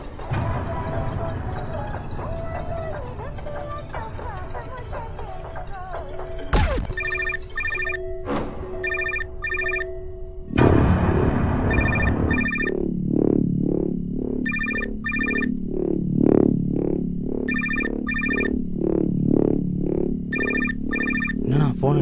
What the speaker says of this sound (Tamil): என்னண்ணா ஃபோன் அடிக்குது?